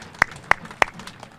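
Applause from an audience at an outdoor EPA brownfields grant award event, heard as a few sharp, distinct claps standing out over a low murmur of crowd noise.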